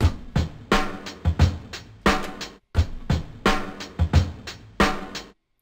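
An MPC 2000XL triggers a resampled drum sample layered with its original, giving punchy, bright hits with deep low thumps in a choppy, syncopated loop pattern, loud and close, with short gaps between phrases.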